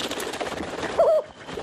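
A cartoon pigeon-rat creature from The Simpsons gives a single short cooing call, clear and close, set over a faint bed of background sound.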